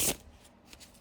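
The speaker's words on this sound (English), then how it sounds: "I am going to give it a good shuffle." Brief riffle of a tarot deck being shuffled by hand, a crisp papery burst up front followed by a few light flicks of the cards, close and quiet.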